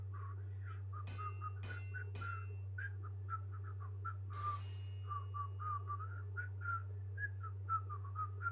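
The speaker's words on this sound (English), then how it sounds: "Teaching myself how to whistle again." A Final Fantasy XIV character whistles a melodic tune of short rising and falling notes over a steady low background hum, with a few sharp clicks and a brief noise burst midway.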